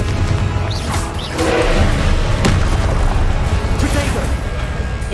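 Confringo fire-blast spell in the PC game Hogwarts Legacy, a loud booming burst amid continuous dense combat noise with other spell impacts, sustained and close throughout.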